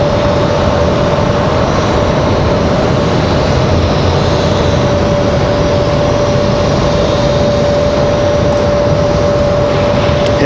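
Delta flight 2633 airliner at Raleigh-Durham airport, a steady loud jet roar with a constant engine whine running throughout, no talking.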